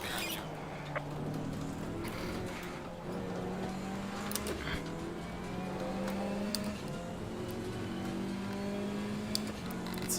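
A GT3 race car in Assetto Corsa Competizione closes in from behind at Zolder, its engine a steady, droning roar with pitch rising and falling as it runs on throttle, continuous throughout.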